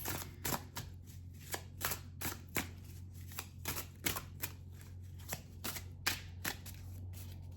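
A Moon Dust Tarot deck is shuffled by hand, giving a run of crisp, quiet riffling bursts at an irregular pace over a low steady hum in an otherwise quiet room.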